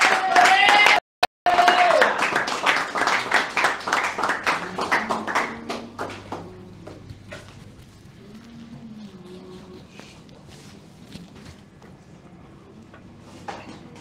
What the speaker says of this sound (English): with a round of applause, can we welcome Deacon Tunde as a guest?